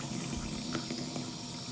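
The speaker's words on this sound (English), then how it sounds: "you're gonna rinse your toothbrush. Doesn't matter the temperature of the water." Tap water running steadily into a sink as a toothbrush is rinsed, a close, even gush with faint splashy flickers throughout.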